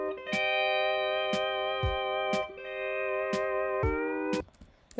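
Music sample played unwarped in Ableton at its original faster tempo, a bright sustained tonal loop punctuated by sharp percussive hits at a quick regular pace, clear and isolated before cutting off near the end.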